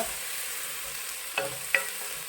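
Onions sautéing with salt in a pan for a prawn biryani, a steady broadband sizzle with two short, sharp scrapes of a spoon against the pan, no voices.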